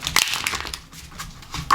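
Tarot cards shuffled by hand, a close run of papery riffles and soft crinkling slaps that rise and fall irregularly, with no speech.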